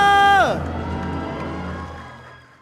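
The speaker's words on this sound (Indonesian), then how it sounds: "Mana tepuk tangannya?" An arena crowd at an MPL Indonesia Season 12 esports match between RRQ and Bigetron Alpha cheers and claps in a loud, dense wash that fades slowly after a brief rising tone at the start.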